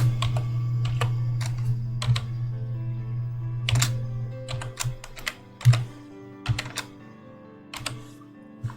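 Rapid, irregular clicking of keys on a computer keyboard as a password is typed, close and clear in bursts of keystrokes over a steady low hum, with no voices.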